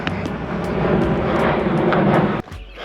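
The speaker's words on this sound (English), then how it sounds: "That's a WestJet plane, you can just tell by the paint on it." A WestJet airplane passes overhead, its broad engine roar loud and steady for over two seconds before dropping off sharply, with faint outdoor background remaining.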